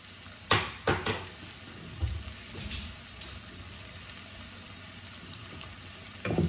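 Ginger garlic paste frying in a pan for a Bengali local fish curry, a few clanks of the spoon against the pan over a low, steady sizzle, with no voices.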